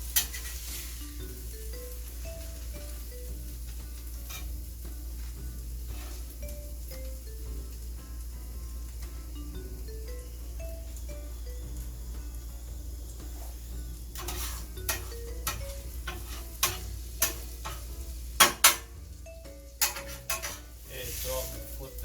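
A quesadilla sizzles quietly on a flat-top griddle under background music and a low hum, with sharp utensil clicks and clanks growing more frequent toward the end.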